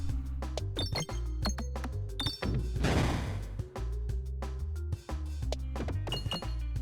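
Bombs being struck in the Peglin game, a busy string of clinks, thunks and whacks over looping game music, with one larger crashing burst in the middle.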